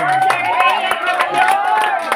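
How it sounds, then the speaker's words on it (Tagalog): A church congregation claps and shouts praise to the Lord in a dense, continuous burst of applause and raised voices filling the room, with a leader's voice over the crowd. "Palapakan natin si El Shaddai, yung buhay na palakpak sa ating Panginoon."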